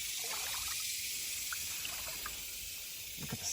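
Water from the Paluxy River trickles in a steady, soft hiss that holds evenly from start to finish with no other clear sounds.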